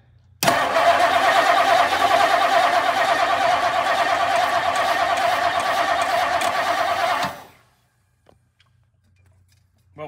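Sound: 1959 Lincoln engine cranking

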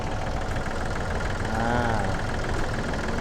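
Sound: Yanmar EF393T 39 hp tractor engine running

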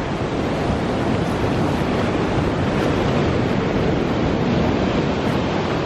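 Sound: sea waves washing around a tripod on the beach

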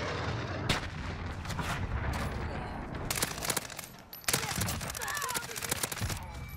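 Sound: gunfire in video game Call of Duty Modern Warfare

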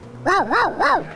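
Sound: voice imitating dog barking

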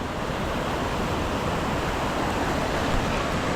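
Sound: river water flowing over rocks, Murti river

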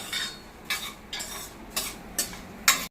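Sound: stirring rice roasting in a pan for kheer

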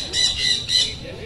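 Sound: birds squawking in a bird park cage

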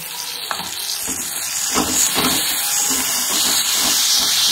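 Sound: garlic and ginger paste frying in pan

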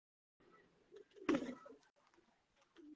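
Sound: old black-faced pigeon

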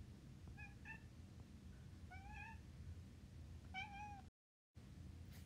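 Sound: cat meowing

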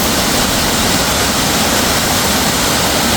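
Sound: Narynetskyi waterfall in the Carpathians

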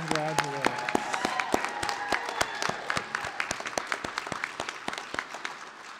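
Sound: applause for graduates at commencement

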